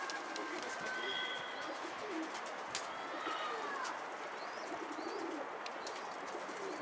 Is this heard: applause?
no